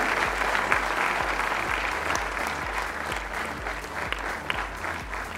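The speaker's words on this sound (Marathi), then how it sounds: "टाळ्यांचा जोरदार गजर मला वाटतं आपण सुरू ठेवूया" Loud, sustained applause from a large audience fills a lifetime achievement award ceremony, steady clapping throughout without spoken words.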